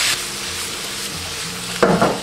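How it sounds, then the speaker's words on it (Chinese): Pork stir-frying on high heat in a wok, with a continuous close sizzle and a louder scrape of the spatula near the end. "然后转小火调味，加入一小勺白糖，一点点酱油，大火翻炒一分钟"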